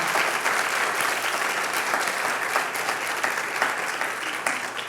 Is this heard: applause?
yes